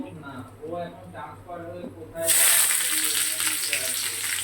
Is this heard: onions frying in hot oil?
yes